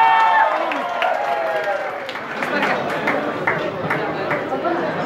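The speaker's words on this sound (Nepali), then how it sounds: "यसपटक जोरदार ताली यहाँको" Audience applause at an inauguration ceremony for a journalism award and cultural program in Dubai, scattered clapping under a loud speaking voice, moderately near.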